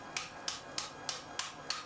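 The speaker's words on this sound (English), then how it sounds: "Using the ball peen of the hammer, go from one end to the other of your heat" A ball peen hammer strikes hot steel held in angle iron clamped to an anvil, six crisp, evenly spaced metallic taps at a steady rhythm, close and clear with no talk.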